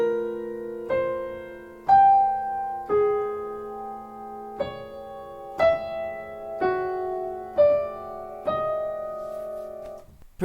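A twelve-tone row melody played alone as separate sustained notes, about ten disparate pitches struck one at a time at a slow, even pace, each ringing out cleanly with harmonics.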